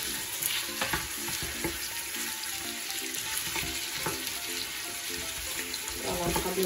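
Meat sizzling and frying in a pan while cooking douida, a steady crackling hiss with occasional stirring clinks, moderately quiet and continuous throughout.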